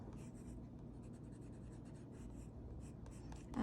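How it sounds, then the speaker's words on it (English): A pencil sketching rough, loose lines on paper, faint scratchy strokes repeating in a quick uneven rhythm over quiet room hiss, with a brief louder bump at the end. "I'm gonna leave a little bit rougher pencil lines"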